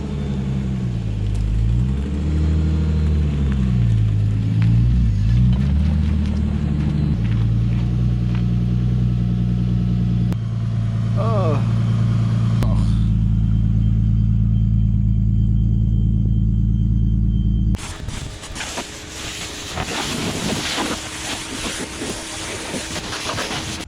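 Exhaust from a turbocharged M52-engined BMW E30 making 515 wheel horsepower drones loudly and steadily up close, its deep tone wavering and shifting pitch, then turning harsher and rougher for the final stretch.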